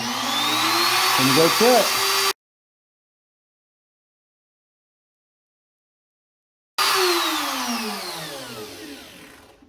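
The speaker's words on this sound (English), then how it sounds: "make sure your housing is sitting flat on this hinge and you turn your router on" A Ryobi router cutting a door hinge mortise through a template spins up with a loud, steady whine for about two seconds, then cuts out; after a gap it returns and winds down gradually. A voice speaks briefly near the start.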